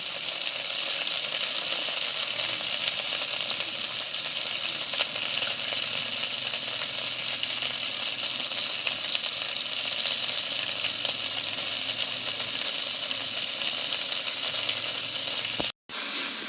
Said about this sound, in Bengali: আর টক করার জন্য আমি আরও একটু ভালো করে ঢ্যাঁড়সটা ভেজে নেব